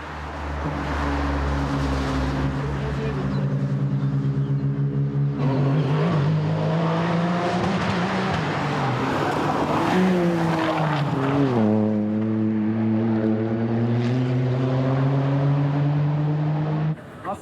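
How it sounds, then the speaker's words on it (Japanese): A race car on a test run at the Nürburgring roars close by, its engine climbing through gears in rising sweeps with sharp shifts and dips, loud and continuous throughout. "この日は翌日からのレースに向けて最終調整のテスト走行が行われました。"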